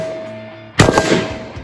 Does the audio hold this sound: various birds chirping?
no